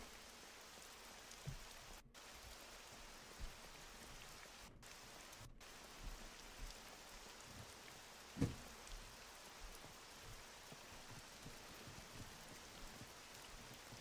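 Steady rain in a video game, an even hiss of drops falling on surfaces with occasional louder drips, faint and continuous with no talking.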